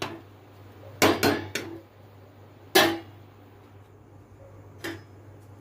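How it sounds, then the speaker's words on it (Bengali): Boiled soybean chunks are strained out of their cooking water in a kitchen, heard as a few sharp metal clanks and scrapes of a utensil against a pot, separated by quiet pauses. "এগুলো আমি ছেঁকে নেবো এবারে।"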